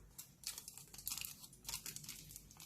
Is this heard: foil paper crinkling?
yes